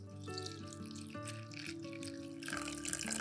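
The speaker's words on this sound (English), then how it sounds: "Add 500 milliliters of water." Water runs steadily into a bowl of chopped mint with a bright, splashing rush that rises slightly toward the end, no voices present.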